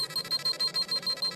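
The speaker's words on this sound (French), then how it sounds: "l'alarme de mon détecteur s'est déclenchée" A power-level detector's alarm from the Saiyans episode of the Dragon Ball anime beeps steadily, a rapid run of short, evenly spaced high electronic pulses at moderate volume with no talking.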